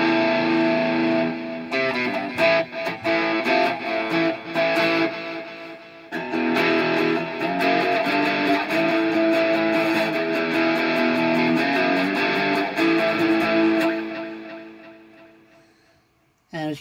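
Enya Nova Go Sonic electric guitar on a heavier, raunchier distortion setting with echo and reverb: a loud, near, continuous stretch of chords and notes that slowly fades out before a short final burst.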